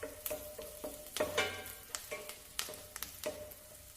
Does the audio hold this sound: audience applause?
no